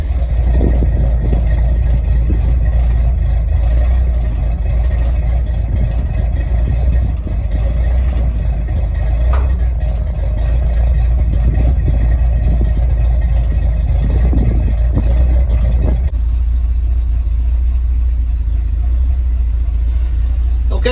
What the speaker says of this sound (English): But I'm going to set it, let it sit here and idle.